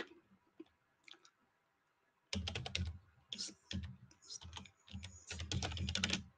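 A computer keyboard typed on at close range: quiet at first, then rapid clattering bursts of keystrokes with short pauses between them.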